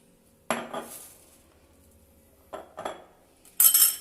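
Chicken marinade with about two tablespoons of oil being mixed in a bowl for butter chicken; a spoon clinks and scrapes against the bowl in three separate bursts, with quiet gaps in between.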